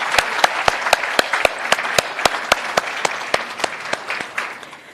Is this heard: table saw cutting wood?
no